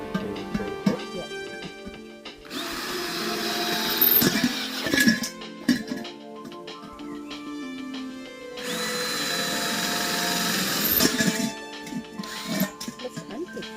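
Power drill boring drainage holes into ceramic pots, two sustained whining bursts of drilling separated by handling knocks and clatter, close and fairly loud.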